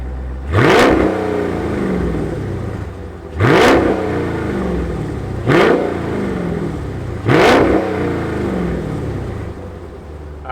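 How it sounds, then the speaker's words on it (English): A Dodge Challenger Scat Pack Shaker 50th Anniversary wide body with a V8 revs loudly and close, its engine rumbling at a steady idle between four sharp throttle blips that climb and fall back. "why don't we fire up our Challenger and hear that V8 rumble"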